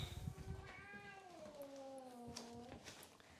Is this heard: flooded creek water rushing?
no